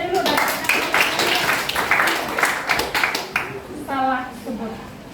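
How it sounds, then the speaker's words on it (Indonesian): A classroom of students clapping for group 3 before their presentation, a brief burst of quick, overlapping claps that dies away as a voice begins speaking. "Tepuk tangan ke kelompok 3 dulu."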